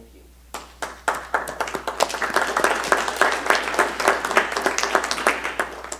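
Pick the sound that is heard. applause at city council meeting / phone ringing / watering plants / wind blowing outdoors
applause at city council meeting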